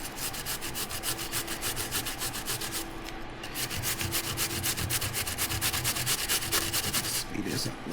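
Jicama is grated by hand, a fast rhythmic rasping scrape repeating steadily and loudly up close, with a brief pause partway through.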